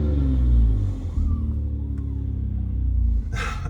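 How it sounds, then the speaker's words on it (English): A BMW X3 M with a T51R mod idles with a deep, loud rumble, then gets a short rev that lifts briefly before settling back to a steady low drone. "I'm gonna give it a little rev."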